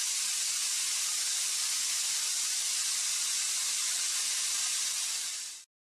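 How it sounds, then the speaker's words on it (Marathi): A pressure cooker of dal and rice lets out a loud, steady hiss of steam that holds for about five and a half seconds and then cuts off abruptly, with no voices over it. "वरण भाताचा कुकर."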